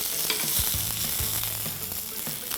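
Beef chunks sear in a hot pan for Texas-style barbacoa, giving a loud, continuous close-up sizzle and crackle with occasional scraping and stirring.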